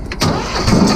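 A Mitsubishi D1800 diesel engine with an ND injection pump cranks and catches after glowing the plugs: a brief quiet gap, then a sudden loud, close, rough rumble that settles into a steady run. No one speaks.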